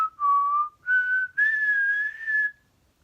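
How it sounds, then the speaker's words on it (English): Someone whistles a short tune of four sustained, slightly sliding notes, clear and close, with no other sounds around it. "Can you whistle? Yes."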